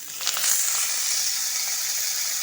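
Slit green chillies and washed, chopped mustard greens hitting hot oil in a pan, a loud burst of hissing sizzle that settles into a continuous bright frying hiss.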